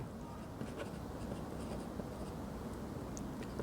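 A pen or chalk scratching out a math formula by hand, a continuous light scraping with small strokes and taps, steady and close, with no voices.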